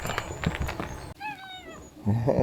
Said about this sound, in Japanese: 猫ちゃんが来ました。